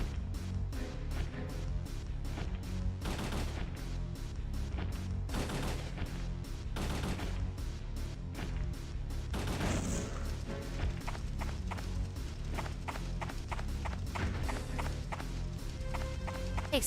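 Rapid bursts of gunfire from bullets being shot in the online game Final Fantasy XI, repeated cracks and volleys over a dense, continuous game soundtrack, with clusters of shots coming close together throughout.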